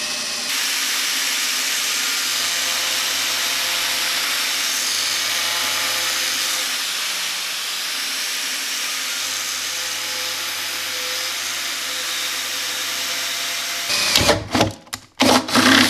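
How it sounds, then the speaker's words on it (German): A power drill bores holes into the corners of a BMW M50 intake manifold, a sustained whining hum for most of the stretch, then ending in abrupt bursts and clatter near the end. "Dann bauen wir erstmal ein paar Löcher in die Ecken hier und dann schauen wir mal, wie das so klappt."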